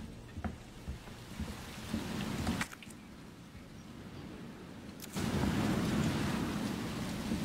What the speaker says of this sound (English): There's the rain. That looks so cool.